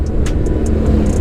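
A car closes in from behind and overtakes a motorcycle on a road in Mimika, Papua, a steady, fairly loud engine rumble and road roar running throughout.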